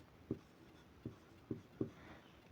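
Faint, close pen taps and short strokes on paper while the word solve is handwritten, four soft ticks spread over a couple of seconds against quiet room hiss.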